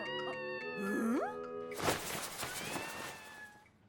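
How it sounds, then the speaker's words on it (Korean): A cat trapped between the walls of a police station meows once in a rising, plaintive call, followed by a burst of commotion and a voice, fairly faint overall. "서장님, 벽 사이에 고양이가 있나 봐요"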